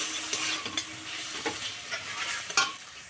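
Meat sizzling in a pan while being stirred, soft frying hiss with scattered scraping clicks of the utensil at irregular intervals, fairly quiet and close, no talk.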